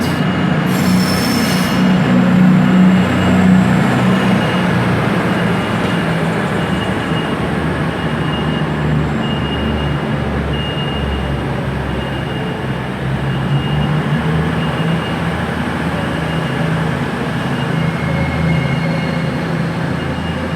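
Class 220 train 220.018 departing Glasgow Central for Penzance, a sustained rumble of rolling wheels with brief high squeals at the start, loud and continuous under a station roof, with no voices.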